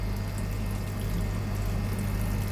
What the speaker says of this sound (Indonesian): Oh, masih ngucur airnya, dan seperti itu teman-teman airnya.